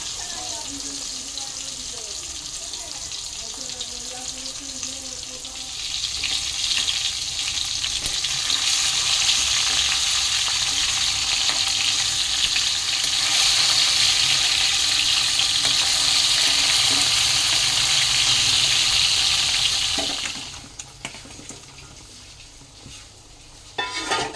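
Fish curry with potato and drumstick cooks in a pan, giving a loud steady sizzle that swells midway and then drops away, with faint voices early on.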